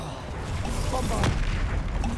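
A Bombarda blasting spell in Hogwarts Legacy bursts with a muffled boom over a dense rumbling battle bed, short and close.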